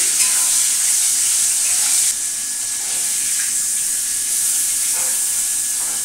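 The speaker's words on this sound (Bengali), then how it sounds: "এই ইলিশ মাছের মাথা দিয়ে কচুর শাকটা করবো। একটু ভেজে তুলে নিই" Small fish and a hilsa head frying in oil, a loud continuous hiss of sizzling that barely changes except for a slight dip midway, with faint occasional clinks and no voices.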